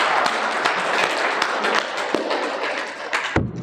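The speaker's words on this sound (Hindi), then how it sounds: "चलो ताली बजाओ एक बार।" A group of people claps hands together at a yoga gathering, dense continuous clapping close and loud for several seconds before stopping abruptly.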